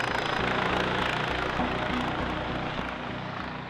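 A police helicopter flies overhead during a drug raid operation in the Marseille area, its steady rotor and engine roar loud and constant throughout, with no talking.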